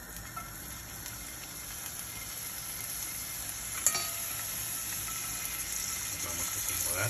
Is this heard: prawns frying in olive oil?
yes